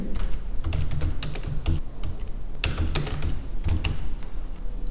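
Computer keyboard typing while a name is entered into a PowerPoint text box, a quick irregular patter of close key clicks in short bursts with brief pauses between them.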